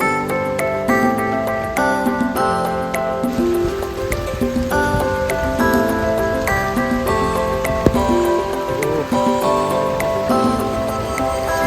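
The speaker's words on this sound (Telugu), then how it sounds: "గాయ్స్ చూడొచ్చు వర్షం కొడుతుంది ఫుల్" Heavy rain pours steadily at a bus stop, a dense, constant hiss with spattering drops that holds at the same loudness throughout, mixed with some faint tonal background sound.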